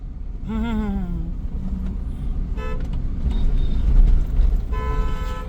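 A car horn sounds in a few toots, one long and others short, over engine rumble and road noise from nearby bumper-to-bumper city traffic.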